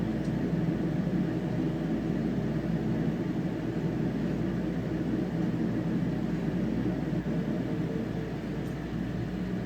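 Aboard an airliner taxiing to the runway, a steady broadband cabin roar and engine hum fill the space evenly, with faint rattles and no voices.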